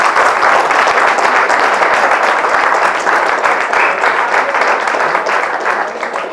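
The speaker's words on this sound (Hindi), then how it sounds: "एक बार जोरदार तालियां सिद्धू के लिए, हमारे अतिथि मनोज भैया के लिए" Loud, dense applause from an audience filling a hall at an inauguration event, sustained clapping for several seconds at close range that fades slightly at the end.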